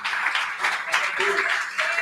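A church congregation claps in a steady, moderately loud wave of applause, with a voice briefly audible over it.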